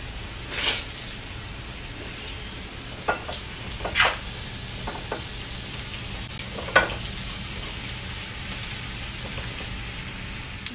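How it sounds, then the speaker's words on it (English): Steak sizzles steadily in a pan, a constant crackling hiss with scattered louder pops and spits, fairly quiet and without talk. "cooking steak"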